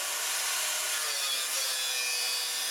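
A 3 mm metal sheet being cut, making a steady, dense, hissing rasp that runs unbroken and fairly loud for the whole stretch, with no voices.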